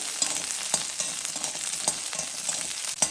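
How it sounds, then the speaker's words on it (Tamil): Five or six garlic cloves sauté in oil, a soft crackling sizzle with scattered sharper pops and light stirring taps, fairly quiet and close, with no one speaking. "அதையும் வதக்கிடலாம் எண்ணெயிலேயே"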